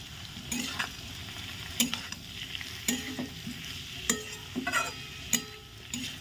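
Cabbage being stirred into a cooked spice masala in a pan: repeated clattering spatula scrapes and knocks at an irregular rhythm over a light frying sizzle, with no speech.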